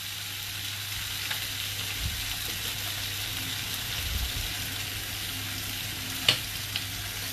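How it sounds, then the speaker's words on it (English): Baby potatoes frying in a pan, with a soft, even sizzle that runs throughout, broken by a couple of faint knocks. "just let that fry"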